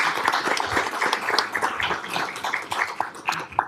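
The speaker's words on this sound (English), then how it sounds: "Ladies and gentlemen, let's give a round of applause." Attendees at a city commission meeting in Augusta applaud a newly appointed member in a council chamber. Close, uneven hand claps run throughout at fairly strong volume, with a few sharper individual claps and slight shuffling underneath.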